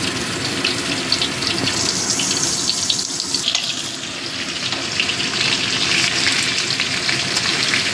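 Potatoes frying in a pan for a pomfret and onion curry, a steady dense sizzle that holds close and loud for the whole stretch with no voices.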